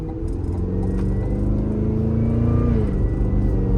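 A supercharged Cadillac Escalade V engine fitted with an S&B cold air intake runs up close under the hood, a heavy continuous rumble with a climbing blower whine throughout.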